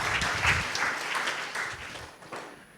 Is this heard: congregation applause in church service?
yes